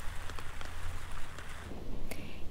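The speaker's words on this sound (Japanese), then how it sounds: "雨足がまた強まってきました。" Heavy typhoon rain pours steadily at night in Suruga Ward, Shizuoka City, as a dense, continuous hiss with a low rumble and occasional sharper drips.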